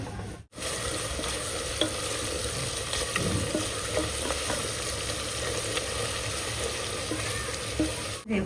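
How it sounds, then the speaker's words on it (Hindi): Onions frying in a pan for homemade Hyderabadi biryani: a dense, continuous crackling sizzle close up, with faint scraping and stirring clatter, no speech. "तो प्याज तलूँ मैं"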